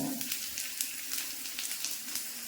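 Asafoetida dropped into hot oil crackles and sizzles steadily up close, with small popping spits scattered throughout.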